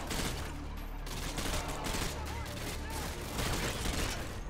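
Rapid M16 rifle fire in Call of Duty Modern Warfare 2, dense loud bursts of shots running through the whole stretch with background combat noise beneath.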